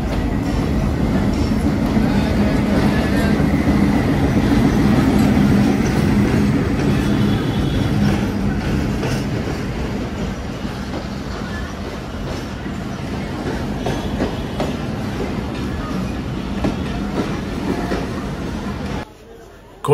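The Mongla commuter train, inbound from Benapole land port, pulls into platform 2 at Jessore station with a steady, loud rumble and rattle of cars. It gradually eases off before cutting out at the end, with people talking in the background.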